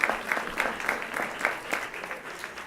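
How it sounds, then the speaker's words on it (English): Light, scattered clapping from an audience of college alumni at an anniversary gathering, uneven and fairly close, with some claps standing out above the rest. "give yourselves a round of applause"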